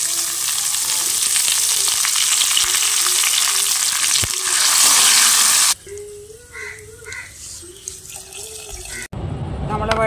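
A Kerala cucumber curry with ground coconut paste bubbles and sizzles in a pan, a loud, busy hiss with stirring and water sounds, shifting partway through to softer simmering with scraping before the sizzle returns.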